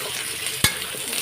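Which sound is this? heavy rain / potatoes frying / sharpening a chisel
potatoes frying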